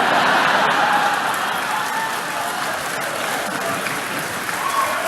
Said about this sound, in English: Oh, you're applauding that.